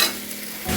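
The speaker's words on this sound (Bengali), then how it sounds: "এবার ভালো করে আমি একটু সাঁতলে নেব" Mixed vegetables with white watermelon rind are stirred and sautéed in a hot pan, giving a close, continuous scraping sizzle that swells again at the end.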